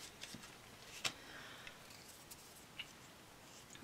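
Scissors cutting paper pelican shapes for a pencil holder craft, with a few faint, close snips spaced irregularly over a quiet background.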